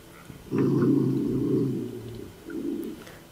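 Dogs growling in the comedy film The Naked Gun 2½: a close, low rumbling growl held for over a second, a brief pause, then a shorter second growl.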